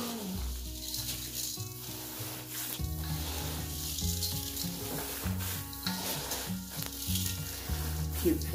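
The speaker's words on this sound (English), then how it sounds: "so we're going to mix it up with our hands, that's why I got gloves on now" Gloved hands mix ground meat and rice for porcupine meatballs, making soft, wet squishing and folding sounds in uneven bursts at close range.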